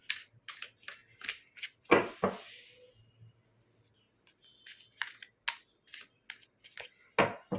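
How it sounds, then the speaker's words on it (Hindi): Tarot cards being shuffled by hand, heard as a string of crisp, close riffling and slapping bursts, with a louder flurry near the start and a quiet pause in the middle before the shuffling picks up again. "तो हम कार्ड को शफल कर लेंगे।"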